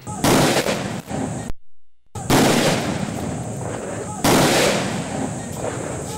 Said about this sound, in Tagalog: Kasunod nito ang isang 3-volley gun salute bilang pagbibigay pugay sa bayani.